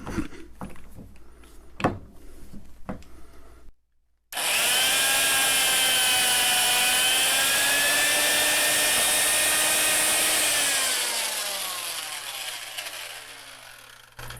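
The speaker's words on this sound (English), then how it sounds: "you can hear the motor struggle a little bit on that one." A vintage Fein tapper motor whines loudly and steadily while tapping with an old, dull tap, its pitch sagging as it labors before winding down. A few sharp knocks and clatters come first.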